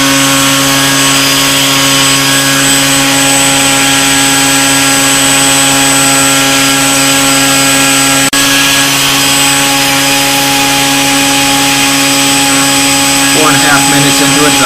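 RC electric motor held at 50% throttle on a Hobby King Red Brick 30A ESC, a loud, steady, high-pitched whine with constant tones, close and unbroken throughout.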